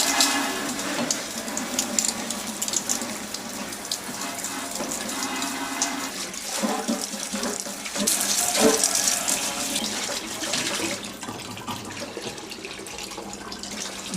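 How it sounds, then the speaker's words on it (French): Clean tap water running and splashing while a deep fryer is rinsed, a steady broadband wash that continues for several seconds, close and fairly loud, swelling briefly midway before easing off. "Pour finir, nous allons rincer à l'eau claire."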